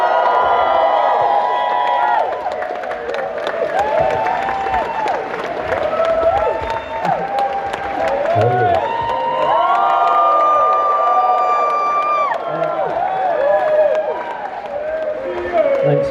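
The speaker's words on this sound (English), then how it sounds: "let's have a big round of applause for the man himself, Serge" A live audience inside All Saints Church in Kingston claps, cheers and whoops loudly for Serge Pizzorno of The S.L.P., a dense roar of applause with shouts rising over it, sustained for the whole stretch.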